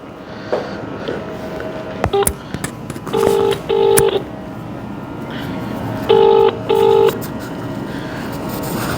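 Telephone keypad tones dialing the public number of the forest office in Kollam: one short beep, then two pairs of clear, steady tones, all over a low background hiss with no talk.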